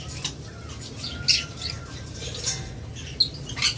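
Turkish blue conures in a breeding aviary, scattered short squawks and chirps with rustling and scratching between them, moderately near but not loud, with no voices.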